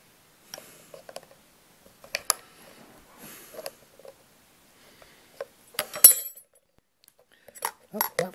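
A thin teaspoon levers a guitar tone knob off its shaft, giving scattered small metallic clicks and scrapes in short bursts with quiet gaps between, close and fairly soft.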